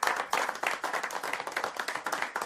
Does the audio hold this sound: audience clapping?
yes